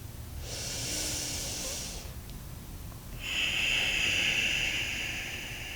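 Two slow, airy nasal inhales during an Ashtanga yoga practice, each a soft sustained hiss lasting about two seconds, the second one louder and sharper, heard close up with quiet pauses between them.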